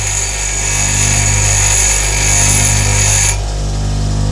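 A loud, steady grinding whine from a bench grinder as a drill bit is sharpened, the high tone cutting off near the end while the motor hum continues.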